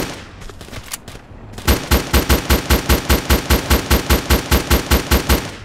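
Automatic gunfire in a crime video game as enemies are shot: a few scattered shots, then a loud, evenly spaced burst of rapid rounds that keeps going to the end.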